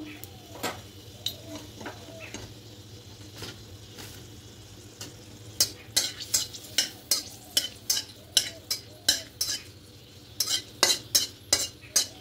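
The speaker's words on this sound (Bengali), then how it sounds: "লঙ্কাগুলোকে খুব কড়া করে ভেজে নেব।" Dried red chillies frying in hot oil in a pan after peanuts were fried, giving a continuous soft sizzle broken by sharp metallic scrapes of a spatula that grow quicker and louder in the second half.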